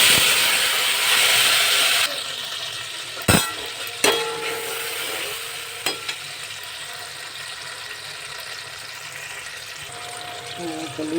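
Hot oil seasoned with cumin and bay leaf sizzles steadily, then ground tomato paste goes in with a few sharp clatters and thumps, and the frying hiss continues, quieter, underneath.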